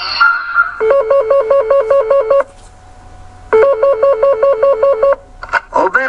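A telephone rings twice while a caller waits to reach a youth hostel in Carcassonne and book a room. Each ring is a loud, fast-warbling electronic burst, separated by a pause, with faint other sounds at the start and end.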